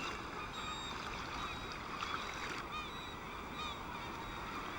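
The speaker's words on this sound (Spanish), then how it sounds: "miles de aves se concentran en las desembocaduras de los ríos a su llegada" Thousands of birds gathered at a river mouth where salmon return, a faint dense chatter of distant calls and honks over steady broad wash of water and wind.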